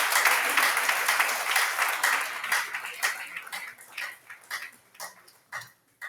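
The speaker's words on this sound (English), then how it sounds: "Please, let's give him a round of applause." Applause from the audience at a Nigerian Institute of Town Planners Oyo State chapter meeting, greeting the fourth presenter; dense clapping fades into scattered claps over about six seconds.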